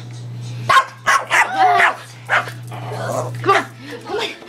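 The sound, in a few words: small dog barking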